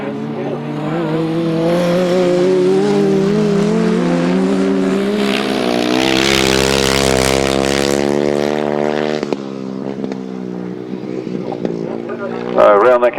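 Grasstrack racing motorcycles at a British best pairs championship, revving hard and accelerating away together around the oval, a loud sustained rising engine roar with layered harmonics that eases off, with a commentator talking over it.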